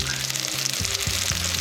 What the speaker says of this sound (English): the sizzle of the burgers